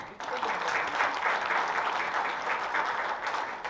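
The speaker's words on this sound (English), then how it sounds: "So big round of applause to everyone." Steady, enthusiastic applause from a crowd, continuous clapping throughout at a fairly loud level.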